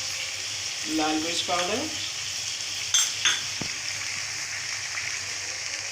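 Chicken with spices sizzles steadily in a pan as it is stirred, with a few utensil clinks and scrapes; someone speaks briefly over the frying.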